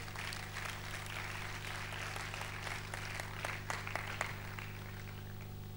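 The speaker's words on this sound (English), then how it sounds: "Thank you for the applause." A church congregation applauds at a revival sermon, a soft, distant patter of clapping over a steady low hum, with a few sharper individual claps standing out.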